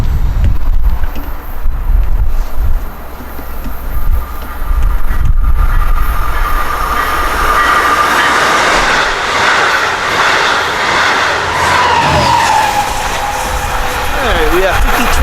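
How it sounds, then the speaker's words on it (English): A Long Island Rail Road passenger train, running between Port Jefferson and Penn Station, rolls past close by, a loud sustained rumble of wheels and engine with a horn-like tone swelling midway, while someone talks over the start. "We'll be watching train 619 about to pass."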